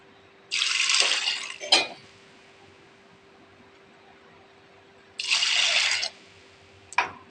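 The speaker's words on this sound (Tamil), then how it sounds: "இப்போ தண்ணி ஊற்றிக்கலாம்" Water streams into a pot in two separate bursts of a few seconds each, a splashy fill followed by a brief clatter, with quiet gaps between and no talking. The water is measured for a maida flour dish.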